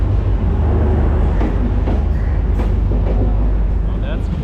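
A train ride in Sri Lanka. A loud, steady rumble of the rail carriage runs throughout, with clattering and rattling on top and people talking underneath.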